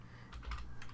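Computer keyboard keys are typed in a short burst, a few quick close clicks over a low steady hum, with no voice.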